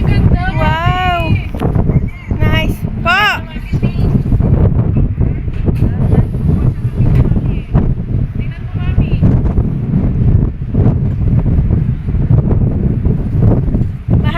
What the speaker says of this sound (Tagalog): hangin ha.